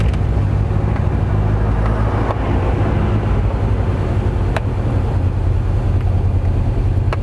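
A 1980s-era Renault 11 GTL, back on the road after thirteen years parked, drives with a loud, steady engine drone mixed with wind and road rumble, recorded from inside the car, with occasional faint ticks and no voices.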